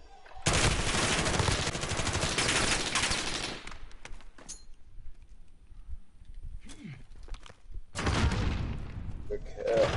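Rapid automatic gunfire in the shooter game Call of Duty, with a long sustained burst up close, a quieter gap, then another loud burst near the end, under a player's talk.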